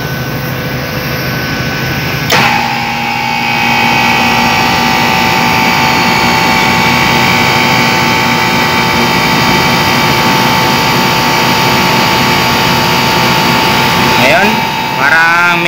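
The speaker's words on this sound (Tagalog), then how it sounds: "tuloy-tuloy na yung andar natin sa compressor" An air conditioner compressor hums continuously during a filter drier replacement, a steady close drone with a faint tonal whine, starting after a brief click, with someone talking over it.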